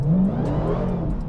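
A Dodge Demon 170 accelerates hard from inside the cabin, its engine note sweeping upward in a steady, close, continuous roar for a moment.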